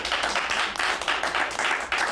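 Studio audience applause at a 1985 WWF Tuesday Night Titans taping, a steady wash of many hands clapping that swells in pulses and continues without a break, with no voices over it.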